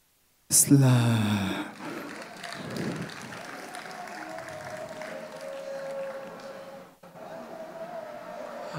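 A crowd applauds at a slam poetry grand final, with a sharp vocal cheer at the start followed by steady, sustained clapping that fills the room for several seconds before easing slightly near the end.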